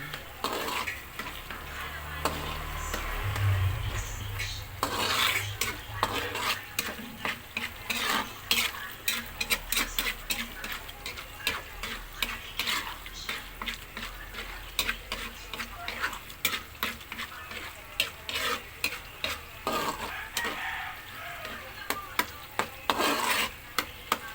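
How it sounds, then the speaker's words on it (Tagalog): Sticky rice cake (biko) being stirred in a pan until browned, with a dense run of spoon scrapes and knocks against the pan over a steady low sizzle, close and continuous throughout. "Mikos-mikos lang siya guys. Hanggang sa ma-brown siya."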